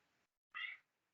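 A house cat gives a single short, faint meow against a quiet indoor background.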